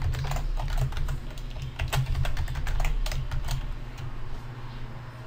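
Keys clatter on a computer keyboard as a password is typed, a quick run of close, crisp clicks in irregular bursts over a steady low hum from a nearby fan or machine.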